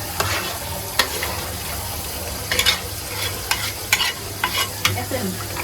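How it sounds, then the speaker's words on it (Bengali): Prawns sizzle and fry in a pan while being stirred, a steady close crackle broken by regular scraping clicks of the utensil. "আর এদিকে চিংড়ি মাছ কষাইতেছি"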